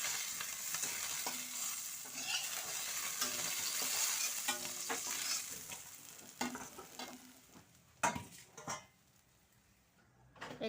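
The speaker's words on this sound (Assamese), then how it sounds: "এতিয়া এই মাছ ভাজি ৰখা তেলখিনিতে মই নহৰুখিনি দি দিছোঁ আৰু কেঁচা জলকীয়াখিনি দিছোঁ" Garlic and green chillies hissing and crackling in hot oil left over from frying fish, with stirring and a few metallic pan scrapes and knocks toward the end.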